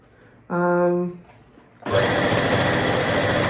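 Sewing machine stitching a chair slipcover: a short buzzing run of stitches, a pause, then a longer steady stitching burst, close and loud, with faint background hiss.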